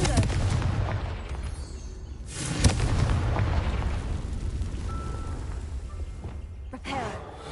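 A Confringo explosion spell in the video game Hogwarts Legacy: a deep, rumbling blast that keeps a continuous boom going, one sharper crack partway through, heavy low-end game audio with a voice mixed in.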